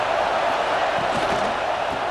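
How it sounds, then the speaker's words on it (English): Stadium crowd noise from the College Football 26 video game forms a loud, steady roar of a packed crowd, unbroken and close throughout the short stretch. "This crowd bringing the energy and noise early."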